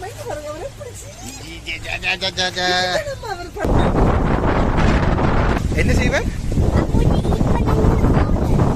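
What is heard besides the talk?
strong wind blowing into the microphone at a farm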